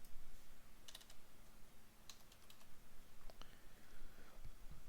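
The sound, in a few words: typing a command on a computer keyboard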